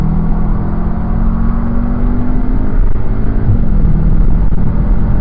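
A Cupra Formentor VZx (310 PS) accelerating on the SMSP GP circuit, heard from inside the cabin as a loud, steady engine drone whose tone rises gradually throughout, with road rumble underneath.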